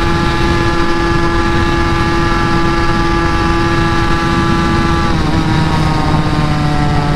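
Yamaha RX two-stroke motorcycle engine running while being ridden, a loud, close, steady buzzing drone with firm harmonic tones that shift pitch slightly near the end, with no talk.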